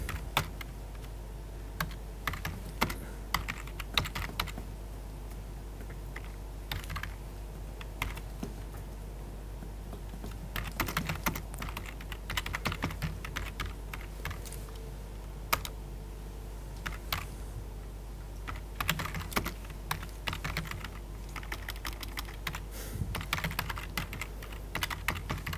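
Steady typing on a computer keyboard during a programming lecture, with irregular bursts of clicky keystrokes continuing throughout, close and moderately loud against a low background hum.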